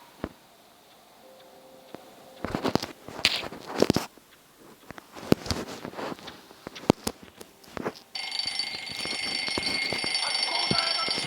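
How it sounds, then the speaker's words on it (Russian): A video game alarm clock starts ringing near the end, a steady continuous high electronic ring that follows scattered clicks, ticking and knocks from in-game movement. "Переводим будильник."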